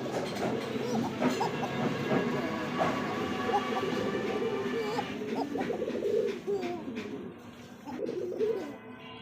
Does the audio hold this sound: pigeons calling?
yes